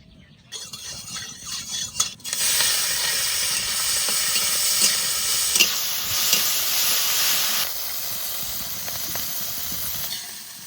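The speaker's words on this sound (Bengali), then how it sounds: "কড়াইতে সর্ষের তেল দিয়ে চিংড়ি মাছটা ভেজে নিই।" Shrimp frying in mustard oil in a wok, a steady loud sizzle and hiss with occasional stirring scrapes, running continuously close by with no talk.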